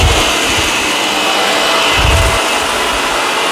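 Shark Rotator vacuum cleaner running steadily with a loud, continuous broadband whoosh of suction and airflow, with brief low rumbles as it moves across the floor; no speech.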